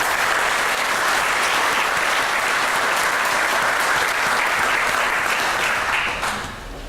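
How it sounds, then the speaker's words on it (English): Sustained applause from an audience at a police awards ceremony honoring officers, a steady wash of many hands clapping that holds evenly before easing slightly at the end. "Let's applaud them."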